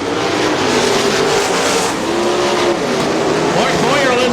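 410 sprint cars race around a dirt track, a continuous loud engine roar with rising and falling revs as cars pass, while an announcer talks over it.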